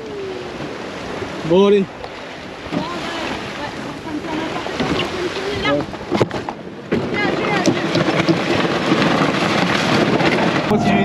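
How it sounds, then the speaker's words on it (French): Wind gusts blow over open water aboard a sailboat, with sloshing waves and boat noise; a person speaks briefly, and the gusts grow stronger toward the end. "c'est le vent qui bouge"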